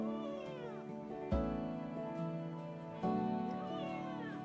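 A rescue cat meows repeatedly in drawn-out, wavering cries, a few separate calls over a few seconds, fairly faint with some thuds.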